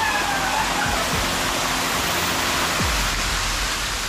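Durgimara waterfall in Hailakandi roars as a steady, loud broadband rush of falling water, constant and close throughout with a few low thumps beneath.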